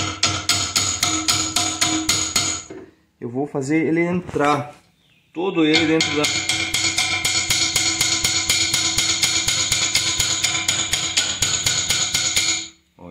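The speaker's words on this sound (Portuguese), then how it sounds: "Então eu vou esticar ele e com o martelo" A small hammer taps gold into a dental inlay in rapid, even strikes, pausing briefly in the middle while someone speaks, then resuming a long, loud run of close, sharp metallic taps.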